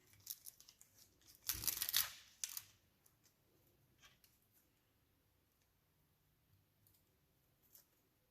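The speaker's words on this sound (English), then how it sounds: "I'm just gonna take this and kind of ruffle the edges a little bit" A paper card's edges are ruffled in short bursts of crisp crinkling and scraping close up, one dense rustle in the middle followed by a few faint scattered rubs and taps in a quiet room.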